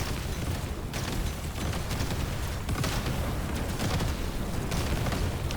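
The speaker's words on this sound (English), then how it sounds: "I can't really see anything with all these explosions" Explosions in the video game Deep Rock Galactic: Survivor form a dense, continuous wall of loud booming and crackling bursts that overlap with no pause, with no talk over them.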